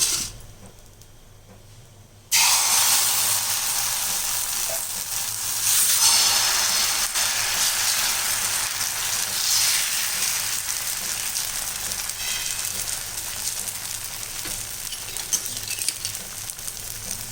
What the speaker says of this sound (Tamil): இப்போ நம்ம இன்னொரு தோசை ஊற்றிடலாம்